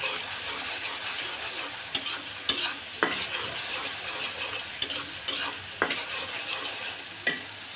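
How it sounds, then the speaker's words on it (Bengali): Spices fried with turmeric powder and salt in a pan for a red lentil dish, sizzling steadily while a spoon scrapes and stirs, with several sharp clacks of the utensil against the pan. "সব কিছু দিয়ে এখন ভালো করে কষিয়ে নিলাম"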